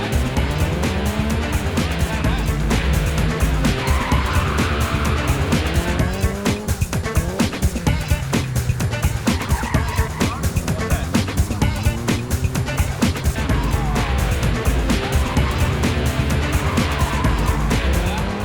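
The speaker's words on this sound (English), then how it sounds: "Talking of serious, Martin the Taurus had the Evo looking good, especially with the newly installed hydraulic handbrake." A Mitsubishi Evo rally car fitted with a hydraulic handbrake skids on a rally stage in New South Wales, with steady engine roar and tire noise dominating throughout, loud and continuous, engine pitch rising and dipping as it slides.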